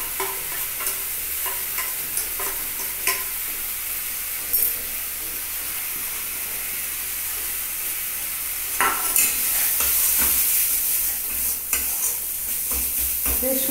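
Grated coconut and spices fry in a pan, with a steady sizzling hiss under repeated scraping strokes of a spoon as the mixture is stirred, up close and with no voices.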